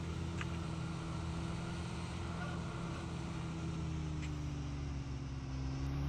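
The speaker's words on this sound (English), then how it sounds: "But it's still making not only engine noise, but gear change noises." A car engine in the fishing video game Call of the Wild: The Angler holds a low, steady drone. It stays faint and constant throughout, with no clear shifts in pitch.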